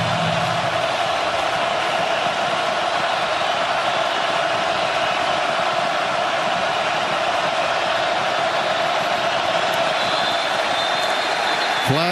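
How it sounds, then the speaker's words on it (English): Steady, dense roar of a college football stadium crowd at a Nebraska versus Illinois game, loud and unbroken throughout with a broad cheering wash. "Listen to this crowd."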